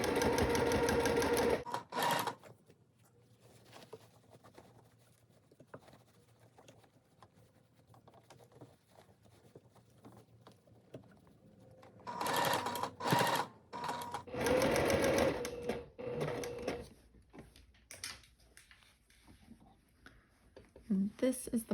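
A sewing machine runs in several bursts while stitching a gathered seam on a striped seersucker dress, with quieter pauses between runs and a voice talking over parts of it.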